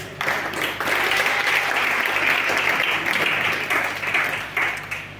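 A church congregation applauds in sustained, loud clapping that fills the whole stretch, with a few voices faintly mixed in.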